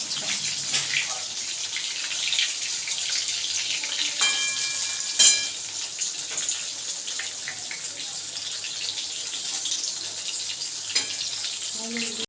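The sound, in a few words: vetki fish fingers frying in oil on low flame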